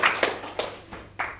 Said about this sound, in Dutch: Keurig, applaus.